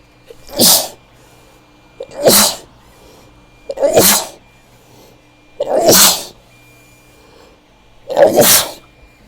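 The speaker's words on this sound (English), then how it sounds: "Ugh, sneezing." Five loud, close sneezes come in a steady rhythm, roughly one every one and a half seconds, with quiet gaps between them during a Minecraft gameplay session.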